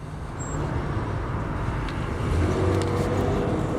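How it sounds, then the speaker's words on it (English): Steady road traffic rumbles outdoors across about six lanes in a commercial area, a continuous moderate wash of passing cars and heavier vehicles with a faint high tone early on. "A little bit of road traffic out here and about 6 lanes of traffic in a commercial area"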